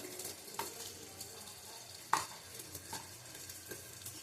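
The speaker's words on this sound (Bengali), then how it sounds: "দিয়ে ভালো করে কষিয়ে নেব।" Prawns fry in a pan with Kashmiri chilli powder, salt and turmeric for a young jackfruit curry. A faint, quiet sizzle is broken by a few light stirring clicks and taps, one sharper knock standing out.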